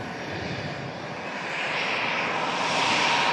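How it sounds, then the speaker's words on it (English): Finnair airliner departing Manchester Airport, its jet engines giving a steady broadband roar that swells louder over a few seconds as the aircraft passes nearby, with no talking. "Finnair departs."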